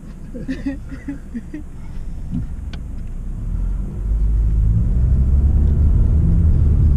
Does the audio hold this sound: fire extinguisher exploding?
no